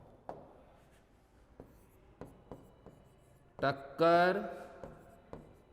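Chalk or marker tapping and scraping on a board during a physical chemistry lecture, a series of short sharp taps and strokes at a steady rhythm, with brief speech in between.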